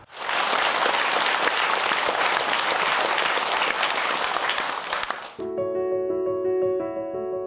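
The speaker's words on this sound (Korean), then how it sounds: "열정 넘치는 스님의 인사말에 사부대 중에 뜨거운 박수가 쏟아졌다" Warm, dense applause from an assembled Buddhist community at a temple gathering, steady and loud for about five seconds before giving way abruptly to a sustained tonal music passage.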